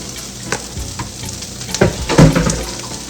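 Cabbage, cut and rinsed, fries in oil already used for sausage and peppers, crackling and sizzling loudly with scattered sharp pops and bursts of spitting, plus a few stirring scrapes.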